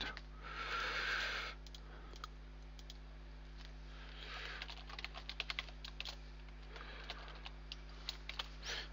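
A computer keyboard clatters as a Telnet password is typed, with bursts of quick, light keystrokes and a few sharper clicks over a steady low electrical hum.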